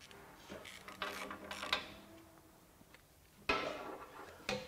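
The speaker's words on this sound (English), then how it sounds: "let's use our torque wrench" A torque wrench ratchets during a Ridgid versus Ryobi impact driver comparison, giving a few short mechanical clicking bursts up close, with sharp louder clicks near the start, middle and end.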